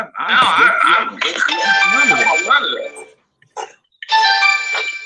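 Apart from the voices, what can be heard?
mobile phone ringing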